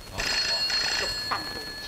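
An old telephone bell rings in a 1965 Hong Kong Cantonese film scene, two loud, close bursts of bright trilling ringing, with a brief voice near the end.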